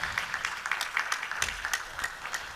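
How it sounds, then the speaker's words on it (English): An audience at an annual conference applauds as an ambassador is welcomed to his seat, giving steady, moderately loud clapping that continues throughout. "Keep clapping, keep clapping"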